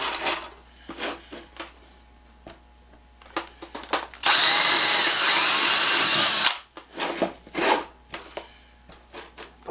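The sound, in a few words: drilling holes with drill bit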